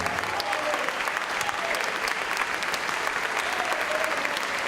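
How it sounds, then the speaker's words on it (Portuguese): A church congregation breaks into applause, a loud, thick, continuous clapping from a full crowd that keeps an even level throughout, with no speech on top. "Vamos aplaudir ao bom pastor."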